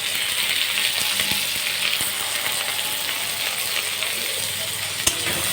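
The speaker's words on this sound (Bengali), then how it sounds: "এখন তাতে স্বাদ অনুসারে লবণ, হলুদ দিয়ে ভালো করে নেড়ে চেড়ে নেব।" Maggi noodles fry with tomatoes, salt and turmeric in a hot pan, a loud, continuous close-up sizzle with occasional scrapes and taps from stirring and no voices.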